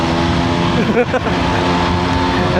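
Yamaha RX100 two-stroke motorcycle riding through Bangalore, its engine a steady, close, loud drone with a brief pitch dip and recovery midway, continuing throughout with a constant wind-blown rumble.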